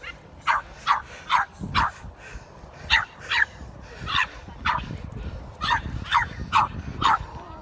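A small dog barks and yaps in quick, high bursts, a dozen or so sharp yips in an uneven rhythm, close and loud over faint rustling background.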